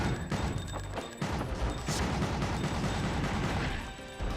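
Gunfire in the Gungrave video game during a boss fight: dense bursts of shots and blasts pile up loudly and continuously, with a brief lull near the start.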